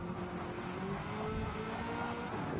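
A Camaro race car on a circuit during a live Autocare race, its engine a steady droning roar with a rising tone throughout, heard at moderate distance.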